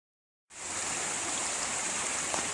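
Silence, then a creek in Michigan's Upper Peninsula starts up suddenly and flows in a steady, close, rushing hiss.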